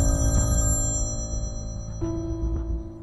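A phone rings with a repeating electronic tone over a steady background of low music, the chime recurring a few times across the stretch.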